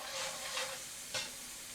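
Garlic, ginger and a desi-style spice mix sizzling in a pan for vegetable curry, a steady close hiss with a couple of brief stirring scrapes and no talk.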